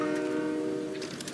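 Train horn from a train in the Fortnite video game, a sustained tonal blare holding steady for over a second, moderately loud with faint in-game background noise.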